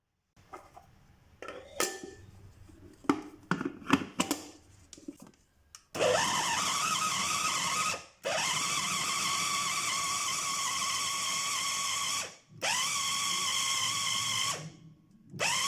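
Cooked chicken pieces ground in an electric food grinder: after some clattering handling noises, the motor roars loudly in three sustained bursts, separated by short pauses.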